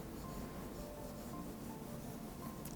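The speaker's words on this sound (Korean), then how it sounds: "이 빵칼을 위에다 대어주시고 그대로" A bread knife saws through the sponge layer of a fresh-cream cake, a soft, steady scraping rub close by, continuous and quiet with no talking.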